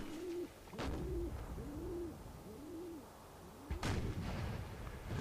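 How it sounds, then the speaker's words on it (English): Cannon fire in a Mount and Blade North & South line battle: deep booming blasts from the artillery, one near the start and a louder one later, over a low, steady battlefield rumble. "And they are under fire from the cannons."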